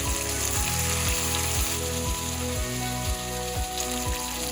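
Fish frying in infused oil in a pan, a bright continuous sizzle and crackle close up, steady throughout with a low repeating pulse beneath, no voices.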